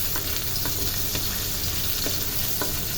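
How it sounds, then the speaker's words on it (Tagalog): Young ginger sizzles in a little hot oil in a wok, a steady dense frying crackle throughout with occasional sharper pops, close and continuous. "sa ating kawali, meron na tayong mainit na kunti lang na oil. Ilagay natin ang young ginger."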